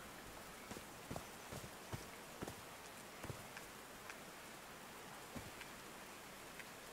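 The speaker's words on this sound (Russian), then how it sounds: "Капли дождя освежают." Steady rain falls in the video game Call of the Sea, a soft even hiss with scattered faint drop ticks, quiet and alone with no voices.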